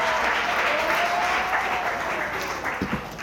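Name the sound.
audience applause at book talk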